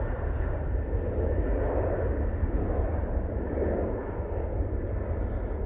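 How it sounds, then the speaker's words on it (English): A TAP Portugal airliner departs for Lisbon from Manchester Airport, its engines a steady, broad roar that holds at an even level throughout. "TAP Portugal, now departing, going back off to Lisbon."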